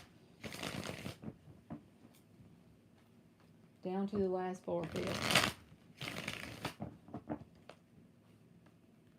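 A tarot deck shuffled in several brisk riffling bursts, loud and close, with a brief spoken phrase between shuffles.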